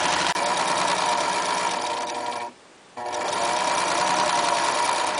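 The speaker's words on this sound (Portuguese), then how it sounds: "Então agora vamos pregar até o final essa costura superior do bordado inglês." A sewing machine runs steadily while stitching broderie anglaise trim onto a cloth doll, a loud continuous whirring hum that cuts out briefly near the middle before starting up again.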